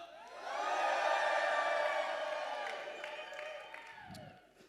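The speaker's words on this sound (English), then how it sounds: "Can I hear you cheer now?" A rap battle audience cheers and whoops, swelling quickly into a loud, sustained crowd roar that fades gradually toward the end.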